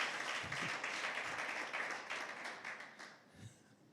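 Congregation applause for Jesus during a church service, a broad crowd clapping that swells then gradually fades over a few seconds, moderately distant.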